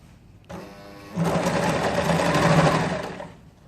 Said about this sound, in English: So now we will sew the sleeve.